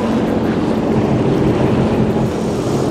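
A 2022 Sea-Doo GTX 300 LTD personal watercraft runs across open water, giving a constant loud engine drone mixed with rushing water and wind buffeting the microphone, with no talk.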